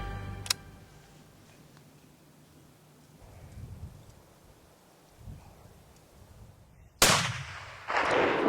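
A rifle fired while hunting a large 6x6 bull elk, a single loud sharp report near the end after quiet outdoor ambience, followed by another burst of noise.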